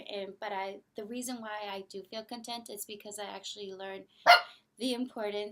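A pet dog named Lucy gives a single sharp bark partway through, loud and close, set amid continuous indoor speech from a person talking.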